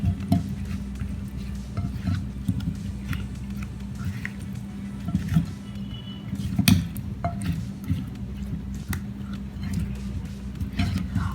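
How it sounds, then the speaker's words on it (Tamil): Potato wedges being mixed with oil and spices in a bowl for baking, a steady busy clatter and scrape of stirring that runs continuously with small sharper knocks, fairly close. "இப்போ நம்ம இது நல்லா மிக்ஸ் பண்ணிக்கலாம்."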